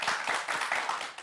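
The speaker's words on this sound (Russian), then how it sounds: "Эти аплодисменты для вас." A studio audience at a Gomel evening broadcast claps in a brief, fairly quiet round of applause, hands beating in a quick uneven rhythm.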